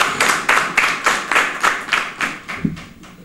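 Union members at a health ministry campaign launch clap together in a steady rhythmic beat, about a dozen evenly spaced claps that fade out at the end.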